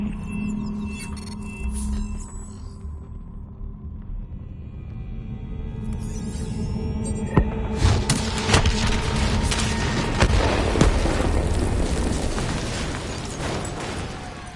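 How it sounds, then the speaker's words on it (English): A detonation in the Call of Duty Black Ops 3 shooter game, where a low electronic hum and tonal beeps give way to a loud booming blast and rolling rumble with scattered crackles. "Detonate now!"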